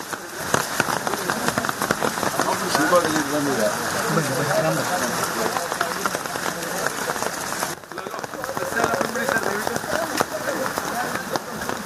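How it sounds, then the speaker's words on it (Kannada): Heavy monsoon rain pours steadily across Uttara Kannada, a dense, constant hiss of drops hitting surfaces, loud and close throughout with a slight drop in intensity partway through. "ಸಿಕ್ಕಾಪಟ್ಟೆ ಮಳೆಗೆ ಉತ್ತರ ಕನ್ನಡ ತತ್ತರಿಸಿ ಹೋಗಿದೆ"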